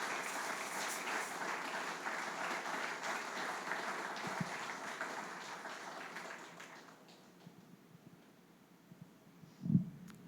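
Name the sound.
church congregation applauding loudly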